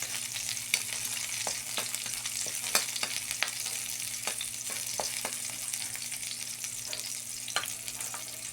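Onions and dried fish sizzle and fry steadily in a pan, a continuous crackle with scattered sharper pops and occasional stirring, close and alone without talk.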